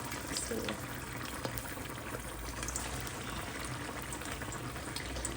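Food frying in hot oil makes a continuous, moderately loud crackling sizzle that holds steady throughout.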